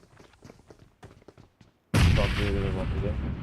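A bomb explodes in an online shooter video game: after a few quiet gunfire-like pops, a sudden loud blast erupts and its roar sustains to the end, with brief talk underneath.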